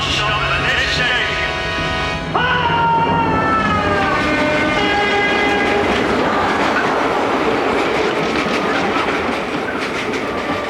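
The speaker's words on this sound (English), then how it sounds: "This intercity train does not stop at this station." An intercity train passes through a station without stopping, a loud, continuous rush of rail noise with clickety-clack wheels and a rising whine, heard close for the whole stretch.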